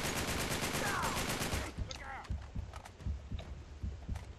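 Gunfire in the video game Uncharted 3, a dense burst of rapid shots early on that gives way to sparser, scattered shots and thumps, all in a busy mix.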